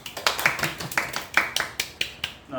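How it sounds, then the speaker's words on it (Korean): Small class clapping during a social work practicum orientation lecture, a sparse, irregular string of sharp claps of moderate loudness, close and without overlapping talk. "우리 반장 박수하겠습니다"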